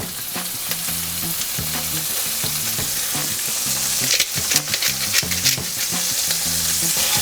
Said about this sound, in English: Let's put in our shrimp. They cook fairly fast, so you don't have to overcook them.